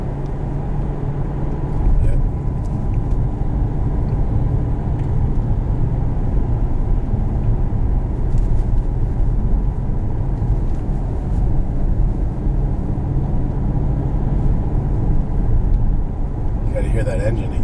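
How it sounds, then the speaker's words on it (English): A 2013 Maserati Quattroporte engine in sport mode, a steady low rumble heard from inside the car while driving, continuous and fairly loud under someone talking. "Hear that engine again."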